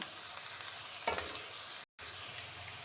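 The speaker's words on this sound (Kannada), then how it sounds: "ಒಂದು ಈರುಳ್ಳಿ ಕಟ್ ಮಾಡಿದ ಹಾಕೋಣ ಈರುಳ್ಳಿ ಇನ್ನೂ ಬಾಡಬೇಕು ಜಾಸ್ತಿ ಫ್ರೈ ಆಗಬೇಡ" Chopped onion and curry leaves fry in a pan for stuffed ridge gourd, a soft continuous sizzle with a couple of brief stirring clatters and a short dropout near the end, fairly quiet.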